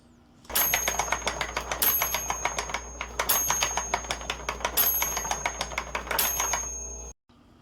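A rapid clicking wooden hand-cranked planetary gear mechanism ticks steadily, with a bright bell ringing out several times at regular intervals over the clatter.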